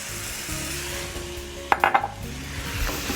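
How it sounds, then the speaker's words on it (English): A spoon stirs milk and evaporated milk in a pan for ham and broccoli macaroni and cheese, giving a brief cluster of metallic scrapes and clinks against a low kitchen hum. "And I'm going to stir"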